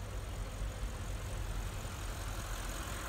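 A 2017 Audi S8 Plus with its 605 hp 4.0-litre twin-turbo V8 idling, a steady low rumble held at an even level throughout, close by and with no talk over it.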